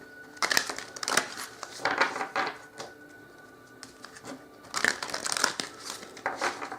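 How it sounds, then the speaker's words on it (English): Tarot cards being shuffled by hand in bursts of crisp riffling and flapping, two long runs with a quieter pause between, close and clear with no talking. "I'm going to pick the 6th card down after we finish shuffling"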